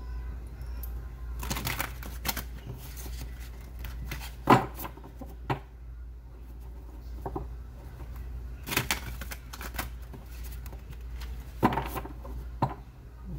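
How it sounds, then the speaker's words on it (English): Tarot cards being shuffled by hand in a quiet room, heard as several bursts of riffling and flicking with brief crisp slaps between them, close and moderately loud, with no talking over them. "more shuffle."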